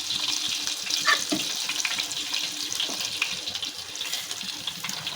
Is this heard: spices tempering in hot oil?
yes